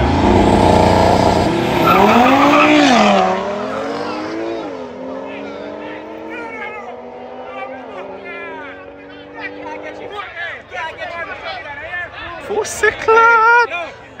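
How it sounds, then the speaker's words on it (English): An Audi TT RS and a 340 race in a night street race, all-wheel-drive German cars, with a loud engine roar and tire squeal up close, rising and sweeping past, then fading into shouting and talk from onlookers. "race of the night, 340 versus TTRS. German machines, extremely fast"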